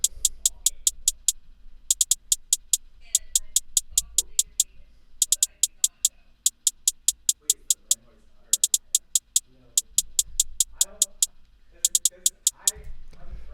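A programmed main hi-hat pattern in a Pluggnb-style beat made in FL Studio plays as crisp, rapid ticking bursts in repeating clusters, with a low bass hum underneath and someone talking softly between the hits.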